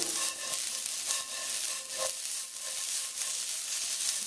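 Okra sizzling with salt in a non-stick pan, a steady bright crackle and hiss of frying with a few soft stirring bumps, close and continuous throughout.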